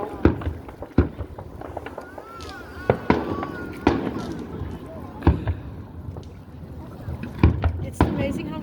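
Fireworks show over water in Antioch, California: sharp, loud bursts pop roughly every second or two, with people talking nearby between and under the blasts.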